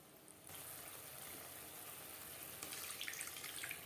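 Spice-rinse water poured into a pan for a Bengali tangra fish and eggplant curry, a steady running pour with splashing that grows louder toward the end.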